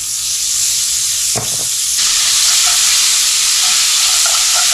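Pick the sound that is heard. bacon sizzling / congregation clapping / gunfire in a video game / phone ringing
bacon sizzling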